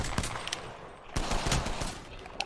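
Rapid video game gunfire from a ranked online multiplayer match crackles in dense bursts, with sharp cracks near the start, a heavier volley around the middle and a final pop at the end, no talk over it.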